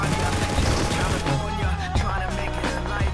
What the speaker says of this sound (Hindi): पीछे से गोलियां चलती हैं